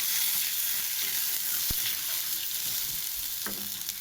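Rohu fish pieces fry in a pan with salt and turmeric for a mustard curry, giving a loud, continuous close sizzle with a couple of soft stirring knocks and no talking.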